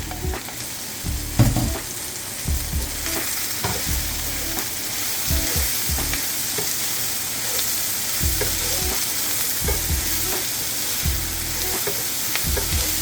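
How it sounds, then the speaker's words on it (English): Onion fries in a pot over high heat, a loud continuous sizzle with irregular scrapes and knocks of stirring across the whole stretch, no voices. "I had it on high, and I'm just gonna go in and throw in without throwing all the onion on the floor"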